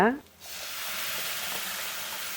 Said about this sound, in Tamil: இப்போ நம்ம அரைச்சி வச்சுருக்கிற தக்காளியை போட்டுக்குவோம்